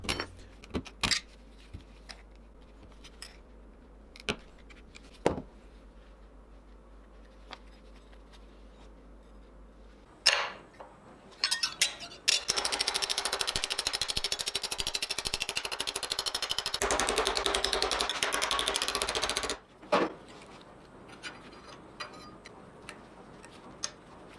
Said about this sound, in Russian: показать, как вырезаю деталь ручными ножницами по металлу